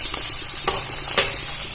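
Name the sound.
frying sattu in oil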